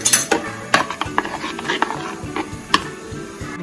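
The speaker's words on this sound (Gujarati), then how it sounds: "બધું જ મિક્સ કરી લઈશું તો તમે સ્વાદ અનુસાર મીઠું એડ કરી દઈશું મિક્સ કરી લઈશું" Tamarind chutney for ras patra stirred and mixed in a pot, with repeated clinks and scrapes of a spoon against metal in an uneven rhythm, close and fairly loud, with no talking.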